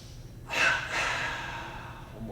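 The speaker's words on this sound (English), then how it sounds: "we're going to inhale and tense the body, and then we're going to exhale, relax." One deep breath during meditation practice: a strong rushing inhale through the nose followed by a long, softer exhale, close to the mic.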